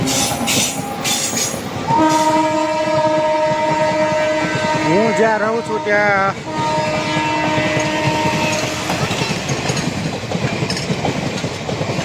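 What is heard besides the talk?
train passing by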